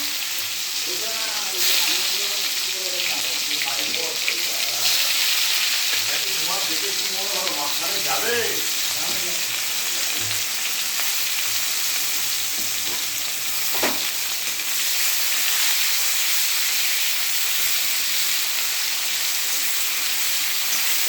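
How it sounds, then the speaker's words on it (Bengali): Cumin seeds and onion frying in oil for a Bengali rohu fish curry, a steady broadband sizzle running throughout with occasional stirring scrapes, while a person talks intermittently early on. "জিরে ফোড়ন দিয়ে দিয়েছি, পেঁয়াজ দিয়ে দেবো।"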